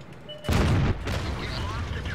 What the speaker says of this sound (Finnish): Tykki ampu.